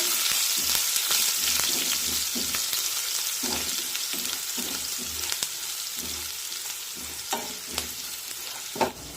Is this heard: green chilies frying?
yes